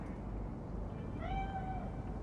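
A cat meows once in the video game Cyberpunk 2077, a clear drawn-out tonal call rising out of a low, steady ambient hum, moderately close and alone without speech.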